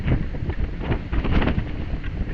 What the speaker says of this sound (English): There's some good wind.